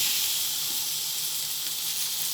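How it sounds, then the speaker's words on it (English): Thick squares of top sirloin steak searing in a hot pan, a loud, even, continuous sizzle heard up close without talk. "you can even sear that side and sear that side, because then you're just amplifying the Maillard browning"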